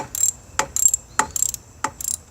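A ratchet loosens the negative terminal bolt on a 2006-2012 Toyota RAV4 battery, giving four short bursts of clicking spaced about half a second apart, close and fairly loud, with no talk.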